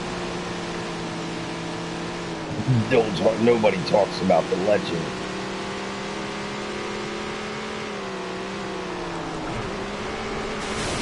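Race car engine in the video game Tony Stewart's All American Racing, a steady droning whine that shifts pitch slightly through corners, continuous and prominent, with someone talking briefly over it early on.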